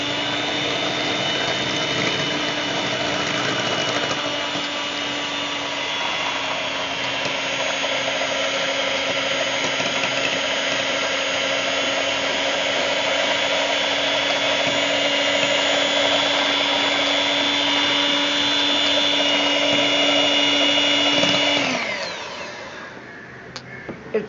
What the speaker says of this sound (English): It's really useful to have an electric beater.